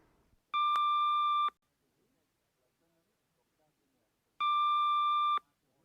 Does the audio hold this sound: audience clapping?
no